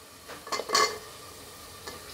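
Peas and potato tossed into a hot pan for Marathi masale bhat land with a brief sizzling burst and a few stirring scrapes, then settle into a faint, steady fry with no voices.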